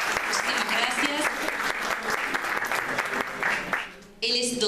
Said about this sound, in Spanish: vamos a darle un aplauso porque nos estuvo también esperando